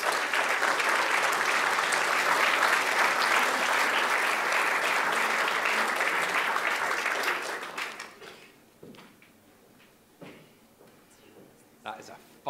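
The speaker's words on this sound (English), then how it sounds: "give a round of applause" Sustained audience applause fills a hall at the Inspiring Aberdeenshire 2023 award ceremony, loud and steady for about seven seconds before fading out, followed by a quiet room with scattered small knocks.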